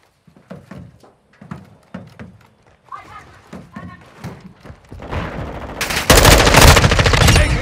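Call of Duty: Modern Warfare II gunfire: separate shots and thuds under talk at first, then a sudden loud, continuous burst of automatic fire that dominates the last couple of seconds.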